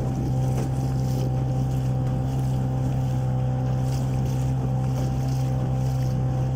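Katabaid-2 boat running under power on a homemade propeller, a steady droning engine hum with constant tonal whine, close and loud, with wind and water noise over it and no talking.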